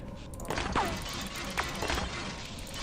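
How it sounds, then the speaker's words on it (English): Glass shattering under gunfire in Half-Life: a few sharp crashes and breaking tinkles spaced across a moment, moderately loud over low background hum, with no voices. "this glass sounds as if I'm shooting it"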